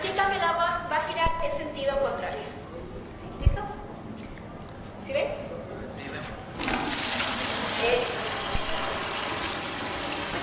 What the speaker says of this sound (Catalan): Mira com han llançat de l'aigua.